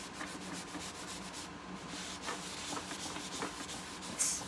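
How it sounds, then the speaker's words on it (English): A wax cloth buffing a surface in quick, quiet rubbing strokes, each one a soft, brushy swish that repeats in a steady rhythm, heard close and faint with no talking. "Here is my cloth, my wax cloth, and I'm just buffing off"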